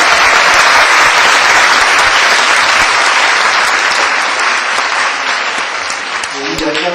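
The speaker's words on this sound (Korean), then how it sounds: "이 열정적인 박수가 상당히 부담이 되겠습니다" Loud, enthusiastic audience applause for a business professor introduced at a university debate contest final, dense clapping throughout that thins slightly toward the end.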